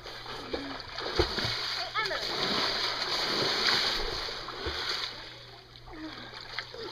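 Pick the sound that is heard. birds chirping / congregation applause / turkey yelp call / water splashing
water splashing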